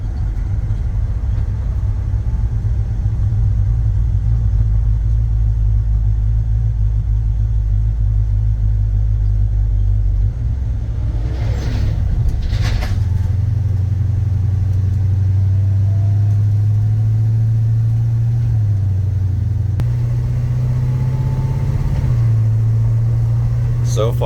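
A 1966 Chevrolet C10 pickup truck drives with a steady low engine rumble from inside the cab, its pitch stepping up through smooth gear shifts, loud and continuous.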